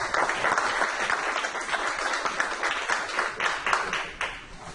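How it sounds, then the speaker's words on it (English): A roomful of people at a ceremonial event applaud a speaker coming to the podium, dense sustained clapping that swells and dips slightly before tapering off, loud and close, no talking over it. "please join me in welcoming Mike Suarez to the podium with a round of applause"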